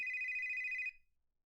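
An electronic phone ringtone trills with a steady pulsing tone, clear and close, then cuts off abruptly and fades into silence.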